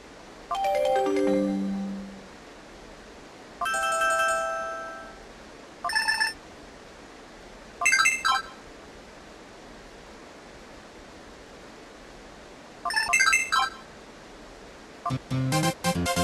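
Several short electronic phone ringtone jingles and chimes from Pokemon Colosseum play in separate bursts with quiet gaps between them, starting with a descending tone run.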